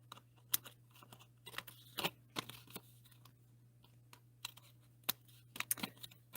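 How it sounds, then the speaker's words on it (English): Small snips trim excess patterned paper around a die-cut card, giving a run of quick, light, crisp snipping and paper crinkling clicks in irregular bursts, close up and quiet, with a faint steady hum underneath. "now all I have to do is just take my snips, and I just go along here and just trim off all that excess"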